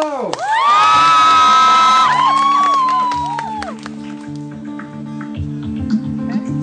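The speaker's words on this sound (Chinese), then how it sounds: "掌声加尖叫！" A crowd at an Amis tribal gathering welcomes the tribe's youth with loud, high-pitched screams and cheering that dominate the first few seconds, then fade into scattered claps, taps and murmuring.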